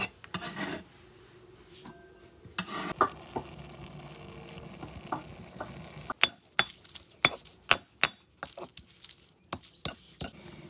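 Refrito of pepper, onion, tomato and garlic frying over a wood fire, a soft sizzle under sharp clinks and scraping stirs from a utensil against the pan, with the metallic taps coming thick and rhythmic toward the end.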